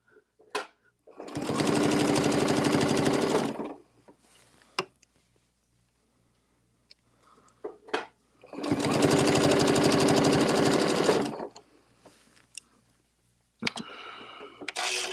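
A sewing machine stitches in two steady bursts of a few seconds each, with quiet pauses and small handling clicks between them, close and alone.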